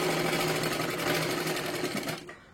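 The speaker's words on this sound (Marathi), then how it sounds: "हा मी पूर्ण तुम्हाला शिलाई मारून दाखवते" Sewing machine runs in a fast, continuous close-up burst while stitching tucks into a blouse, then winds down and falls quiet near the end.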